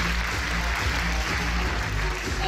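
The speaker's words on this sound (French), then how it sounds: "Applaudissements." Crowd at the Miss Poitou-Charentes 2017 beauty pageant claps in a short, continuous burst of applause over a low background hum, fairly loud and dense from start to finish.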